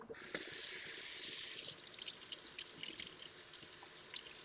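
Tap water runs steadily over an orchid being rinsed in a sink, a continuous close splashing hiss that shifts to uneven, trickling spatter as the plant moves under the stream.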